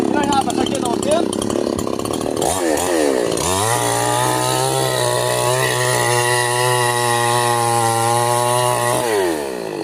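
A chainsaw engine roars loud and close, revving up over the first few seconds, then holding a steady high drone before easing off at the end. A voice can be heard in the opening moments.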